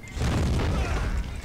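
Musket volley from an American Civil War line battle in the Born in the Fire mod, a sustained loud booming roar of massed gunfire lasting over a second with no clear separate shots.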